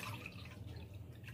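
Water poured into a cooking pot on a home stove, a steady close splashing pour with faint dripping, quiet and unbroken for the whole stretch.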